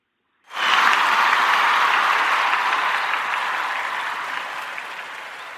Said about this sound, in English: We're going to just pause and give him a hand clap as well.